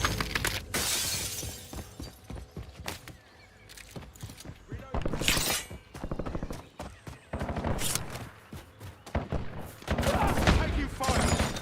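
Gunfire in the video game Warzone: dense, crackling bursts of shots and sharp impacts, loud and continuous throughout, with game effects layered in.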